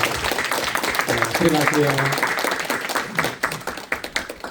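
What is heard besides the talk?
congratulatory applause from the church congregation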